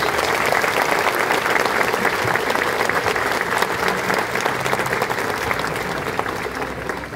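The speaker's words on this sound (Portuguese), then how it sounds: "Uma grande salva de palmas à palavra de Deus" A church congregation claps in a full, loud burst of applause during a parish service, dense and sustained for several seconds before slowly easing off.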